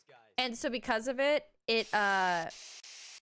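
An aerosol can gives short hissing bursts, then one longer spray, mixed in with someone talking nearby.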